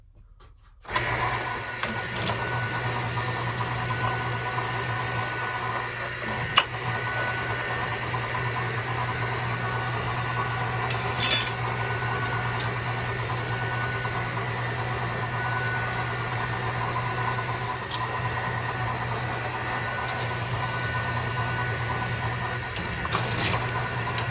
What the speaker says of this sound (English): now I'm going to drill them out so when I spot weld, that'll be where I spot weld